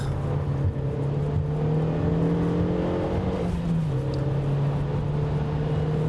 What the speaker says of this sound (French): les Formule 1 au premier virage sont déjà à plus de 200 km/h